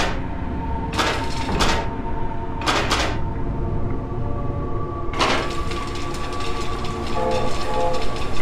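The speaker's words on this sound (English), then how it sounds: "A train set." A toy train set in The 7th Guest, a puzzle video game, runs with a steady rolling track rumble, broken by several short bursts of clattering, and a faint whistle-like tone holds beneath.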